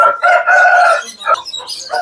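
An Aseel rooster crows close by in one loud drawn-out call, followed by a few short clucks.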